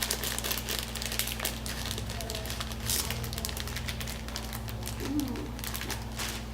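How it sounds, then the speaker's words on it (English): Contents rattling and crinkling inside a Hobonichi planner box shaken for ASMR, continuous close rustling over a low steady hum. "ASMR rattle for you."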